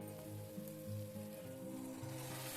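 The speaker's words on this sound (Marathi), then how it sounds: "तर हा मसाला आता आपण मस्त 2 ते 3 मिनटं किंवा 4 मिनटं मस्त भाजून घेणार आहोत." Onion, chili and turmeric masala fries gently in a pan, a soft, steady, close sizzle that carries on evenly with nobody speaking.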